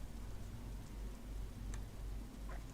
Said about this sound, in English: Oh, the rain is awful.